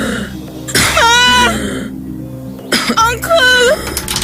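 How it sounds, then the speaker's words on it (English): A woman coughs and chokes in two harsh, strained bursts, raspy and close, with a wheezing, gasping quality and a pause between them. "She just started to cough just so."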